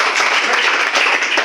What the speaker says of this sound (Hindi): ताली बजामा